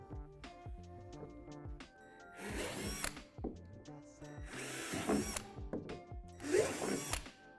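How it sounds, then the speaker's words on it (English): Power drill boring out divots at the top of a plastic playset slide during assembly of a Lifetime Adventure Tower Deluxe Playset; three separate loud drilling bursts, each a couple of seconds long, with tool clatter between them. "Now drill out the three divots at the top of the slide."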